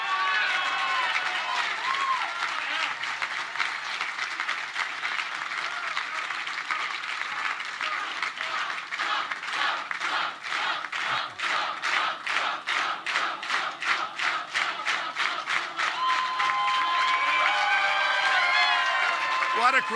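A large crowd at a Donald Trump rally applauds and cheers loudly and continuously, the clapping growing into a fast rhythmic beat in the middle before swelling back into broad cheering.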